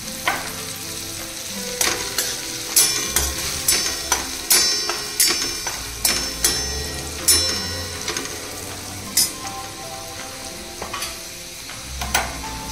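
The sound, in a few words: sautéing peas with turmeric and coriander powder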